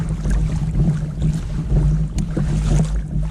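Sea kayak paddled off the coast at Eastbourne, UK, heading away from shore, with steady rhythmic water sloshing and splashing close by under constant wind noise on the microphone.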